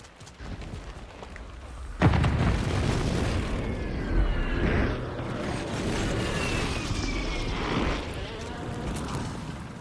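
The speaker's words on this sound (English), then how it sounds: "Hostile airstrike near your location." Explosions and airstrike blasts in the Call of Duty Modern Warfare 3 multiplayer, a sudden heavy boom followed by sustained rumbling detonations and debris, fairly loud and continuous with no talk.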